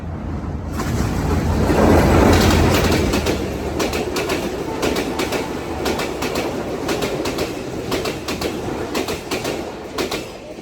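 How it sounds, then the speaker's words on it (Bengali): A train pulls into Rajshahi University railway station with a loud, continuous rumble and a steady clickety-clack of wheels over rail joints, heard close by throughout. "এই যে বলতে বলতে ট্রেন চলে আসছে"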